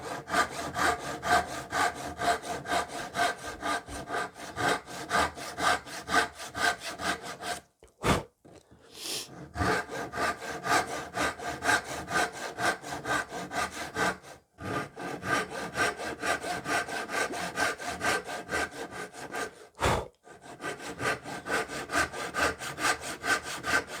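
A hand saw cuts into guitar wood while a fret-access cutaway is being made, giving steady, rhythmic back-and-forth rasping strokes close to the mic, with brief pauses near 8, 14 and 20 seconds.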